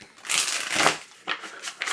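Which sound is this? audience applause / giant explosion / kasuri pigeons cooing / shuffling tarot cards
shuffling tarot cards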